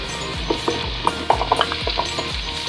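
Potatoes and carrots frying in oil in a pan for afritada while a spatula stirs them, with scraping, clicking strokes repeating at a steady pace over a constant close sizzle.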